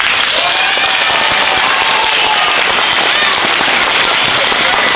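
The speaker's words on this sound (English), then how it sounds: "you have to clap like that was the best poem you have ever heard in your entire life" At an elementary school Black History program, an audience of children claps loudly and continuously after a poem. The dense clapping sounds close and unbroken, with excited voices and squeals mixed in.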